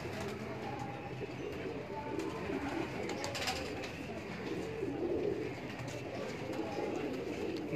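Pigeons coo softly on a rooftop where racing pigeons are kept, low murmuring calls repeating over steady outdoor background noise, fairly faint and without talk.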